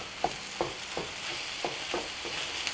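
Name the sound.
chorizo cooking with potatoes in a pan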